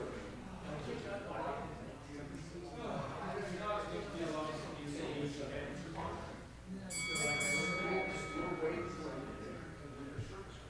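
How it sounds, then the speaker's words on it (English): A bell rings at an indoor slot car raceway before the last round of a race, a bright sustained ringing tone rising over steady crowd chatter and background noise. "Getting ready, the bell rang,"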